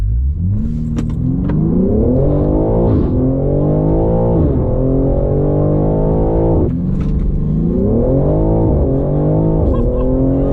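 BMW M3 Competition launching from standstill with launch control at Goodwood Motor Circuit, the engine roaring loud and close as it climbs through rising revs, drops sharply at each gearshift, then pulls again.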